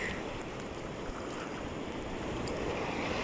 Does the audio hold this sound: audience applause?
no